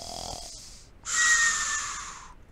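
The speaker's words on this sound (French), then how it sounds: "Le loup ronflait tranquillement." A wolf snoring peacefully in a French telling of the wolf and the seven little goats: a short airy intake, a pause, then a longer whistling, wheezy snore, fairly quiet and alone.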